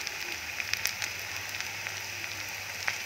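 Cauliflower fries in a pan with browned onions, making a soft, steady sizzle with scattered small crackles and pops, faint and close, with no voices.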